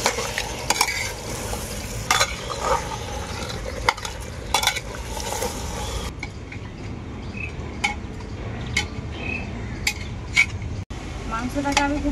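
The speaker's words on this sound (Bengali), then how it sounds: "এরপর আমি মাংসটা খুব ভালো করে কষাতে থাকবো যতক্ষণ না মাংসের গা থেকে তেল ছেড়ে যাচ্ছে" Goat meat and potatoes being stir-fried in a pressure cooker, with steady scraping and stirring clinks over a continuous low sizzle, close and moderately loud, without talk.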